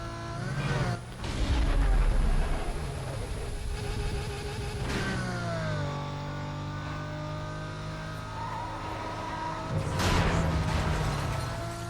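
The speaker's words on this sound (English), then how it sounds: "I run into the back of a dump truck" A car in Need for Speed: Most Wanted (2005, PS2) slams into the back of a dump truck at a construction site: loud engine revving with a heavy impact early, sustained motor drone, then another roaring surge near the end.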